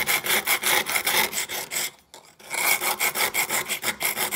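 A brush scrubs grime off tiles in quick, regular back-and-forth strokes, loud and close, with a brief pause midway before the rhythmic scrubbing resumes.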